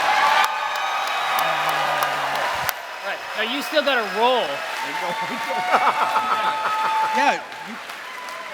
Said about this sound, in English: Please save the applause for the roll after.